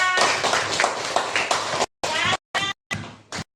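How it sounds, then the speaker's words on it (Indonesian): Schoolchildren clap their hands together in an elementary classroom, a brief burst of quick group clapping followed by a few short separate claps, with a voice speaking over the start. "Tepuk tangan semuanya"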